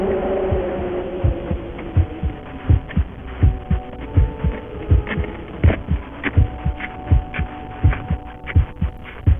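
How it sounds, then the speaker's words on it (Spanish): A human heartbeat thumps in a steady, regular double-beat rhythm, close and prominent over a low continuous hum, with no voices. "los latidos del corazón"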